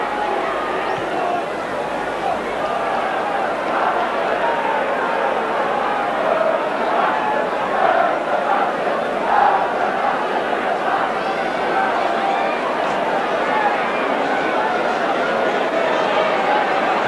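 Stadium crowd at a 1989 Wigan versus Leeds rugby league match, a dense, steady roar of many voices that swells slightly at times and runs throughout without a break.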